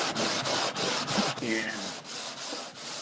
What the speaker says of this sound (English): you're going to need a sanding screen that's pretty heavy grit.